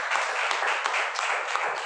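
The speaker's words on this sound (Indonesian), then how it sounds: "luar biasa, tepuk tangan sekalian lagi." Audience applause at a motivational seminar, a steady dense wash of clapping from a crowd filling the whole short stretch at an even level, with no voices standing out.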